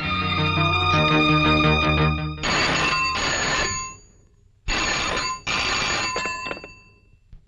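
A telephone rings in a film scene from an office setting, with a sustained ringing burst followed by pauses and two more loud ring bursts, alone with no talk.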